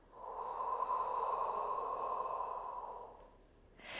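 A single long exhale through the nose during a Pilates exercise, a close, soft, breathy rush lasting about three seconds before fading, followed by a brief new breath at the end.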